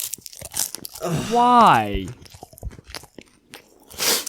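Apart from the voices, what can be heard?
crunchy sound effect of punching fruit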